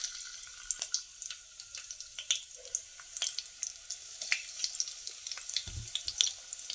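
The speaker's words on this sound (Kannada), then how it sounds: "ಈ ಈರುಳ್ಳಿ ಕಡಾಯಿಲಿ ಹಾಕ್ತಿದ್ದೀನಿ" Onions sizzle steadily in a hot kadai, a crackling, spitting fry heard up close with no one talking over it.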